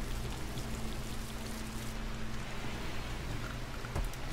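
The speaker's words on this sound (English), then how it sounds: "Oh, it's raining." Steady hiss of falling rain in RimWorld, a dense wash of droplets throughout with a faint low hum underneath and a sharp tap near the end.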